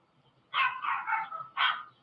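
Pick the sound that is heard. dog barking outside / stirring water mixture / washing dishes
dog barking outside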